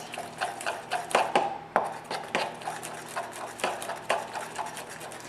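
Coconut sugar is stirred and mashed into a cranberry ball mixture in a bowl, giving repeated irregular scraping and tapping strokes, fairly close and distinct.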